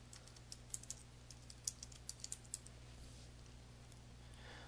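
A computer keyboard is tapped in a sparse series of light, quiet keystrokes, some in quick clusters, over a steady low electrical hum.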